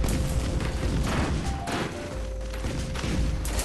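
Meteor strike explosions in the Risk of Rain video game land as a dense string of heavy booms and crashes, one after another, loud and continuous.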